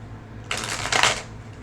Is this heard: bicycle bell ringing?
no